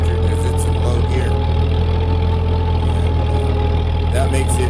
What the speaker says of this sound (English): that is part of the reason you hear a lot more gear noise with this tractor because it's in low gear